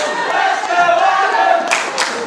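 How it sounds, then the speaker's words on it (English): A wrestling show crowd roars in a steady, loud wash of cheers and shouts that fills the hall, with a few bursts of clapping near the end. "The crowd here cheering for Adam Bolt."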